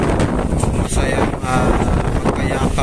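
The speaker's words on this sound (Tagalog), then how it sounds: "malakas yung hangin at umulan na" Strong wind buffets loudly and continuously at Manila Bay on a rainy day, with a roaring rush across the whole clip and someone speaking briefly beneath it.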